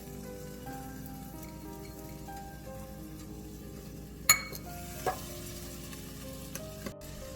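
Chopped onion sizzles steadily in hot butter in a pan, a continuous close frying hiss with a couple of sharp utensil clinks partway through; no voices.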